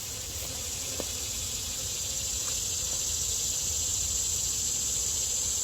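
Honeybees in an open hive during a hive split, a faint, steady, dense hum and hiss with no break, heard close with no voices.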